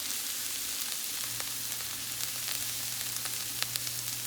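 Potatoes fry in a pan with a steady, dense sizzle and scattered small pops and crackles, continuous and fairly close, with no voices.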